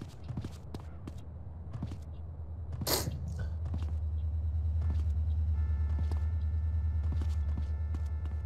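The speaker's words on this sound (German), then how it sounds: "Okay, das Auto ist explodiert." A car blowing up in the video game GTA San Andreas gives a sharp broadband burst near the start of the third second, then a steady low engine-like rumble that holds to the end.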